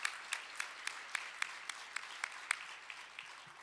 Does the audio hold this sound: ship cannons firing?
no